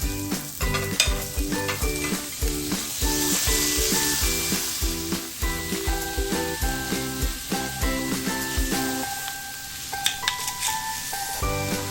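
Onions and meat sautéing in a pan for coconut-milk adobo, a steady sizzle with repeated scraping stir strokes, close and fairly loud over background music.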